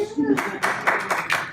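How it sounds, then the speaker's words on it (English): An audience claps for a volunteer at a talk in a meeting space, the applause coming in a short run of distinct bursts, fairly close and moderately loud, with no one talking over it. "Thank you everybody for giving Sonia a round of applause."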